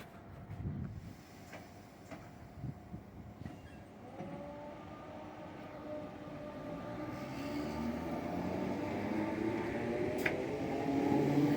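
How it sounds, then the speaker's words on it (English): A Kirkby train rumbles past nearby near Kirkdale, growing steadily louder with rolling wheel noise and a rising whine, with a sharp metallic squeal near the end. "there's the old Kirkby train"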